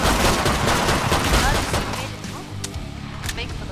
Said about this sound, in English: I keep on, like, shooting the zombies right after you kill them.